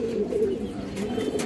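A red chulli female pigeon coos in a steady, close, low warbling run that lasts throughout, with no talk over it.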